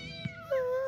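A single cartoon cat meows in an animated children's show, a short rising then sustained tonal cry, fairly close and clear with little else around it.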